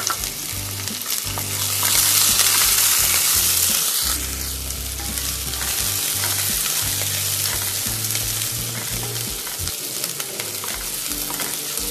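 Chopped onion, garlic, green chili and ginger frying in hot oil for lemon rice, with a steady loud sizzle, stirring scrapes and low rumbling thumps throughout, no voices.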